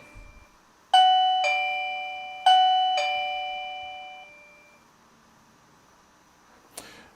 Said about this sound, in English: the chime